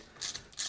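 A ratchet clicks in two quick bursts while removing M8 case bolts from a Ducati Hypermotard 1100 engine, close and crisp, with no talk.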